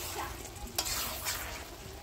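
Mutton kosha curry with homemade ghee is stirred in a pan over a wood-fired clay stove. It gives a soft, steady sizzle with a couple of brief scraping strokes, quiet and close, with no talking.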